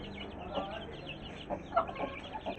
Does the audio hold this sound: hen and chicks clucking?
yes